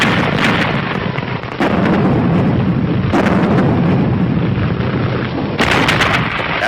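105 mm artillery guns fire in a loud, heavy series of booms, each blast rolling into a long rumbling tail before the next, several shots close together.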